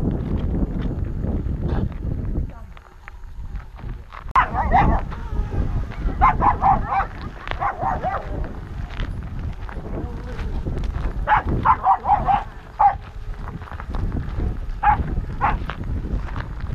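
Several dogs bark and yip in short bursts on a desert canyon hike among palm trees, scattered barks at moderate distance mixed with footsteps, wind and occasional voices talking.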